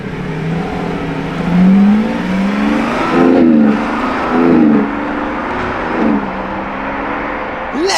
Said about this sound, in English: That was a beautiful orange Revuelto!